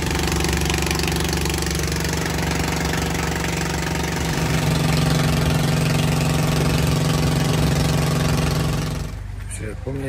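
An idling engine on a Thai longtail-style boat at the Surin Islands, a steady loud drone with low harmonic hum running continuously for about nine seconds before cutting off abruptly near the end.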